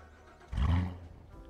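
A car engine in the video game Tiny Room Stories: Town Mystery starts with a sudden low, rumbling roar that swells for a moment and then settles into a quieter idle under a steady background hum.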